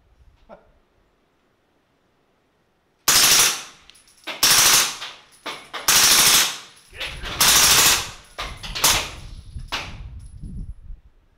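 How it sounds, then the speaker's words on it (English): Fully automatic 9mm AR-style rifle firing at an outdoor munitions range: several loud, close bursts of rapid fire separated by short pauses, following a few quiet seconds. "a true fully automatic 9mm AR-style rifle"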